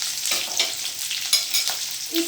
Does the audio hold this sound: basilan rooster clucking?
no